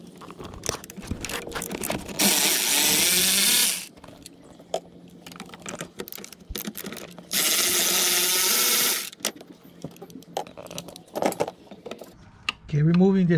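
A power tool whirs in two bursts of a second or two, removing mounting bolts on a 2012 Subaru Outback, with clinks of metal and handling noises between.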